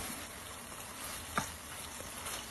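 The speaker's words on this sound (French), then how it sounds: "J'ai ajouté un peu d'huile. Je vais sauter ça légèrement." Chicken sautéing lightly in a little oil in a pan, a steady soft sizzle and crackle with one brief sharp pop from stirring, heard close and alone without talk.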